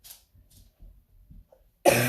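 A single loud, harsh cough bursts out near the end, after a stretch of faint rustling and quiet handling noises, close to the microphone.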